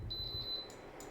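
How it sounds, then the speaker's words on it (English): A single high electronic beep rings out steadily for about half a second, followed by a faint second tone, fairly close against a quiet background. "Sorry for the beep."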